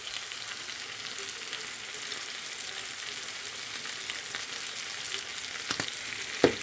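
Pork meat frying in a pan, a steady close hiss of sizzling with a few light clinks near the end, no voices.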